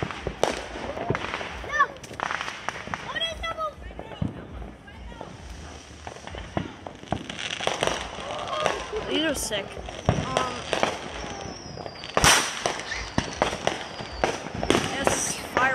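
Fourth of July fireworks, a dense barrage of sharp bangs, crackles and whistling rockets, some near and loud, continuing throughout while people talk and exclaim over them.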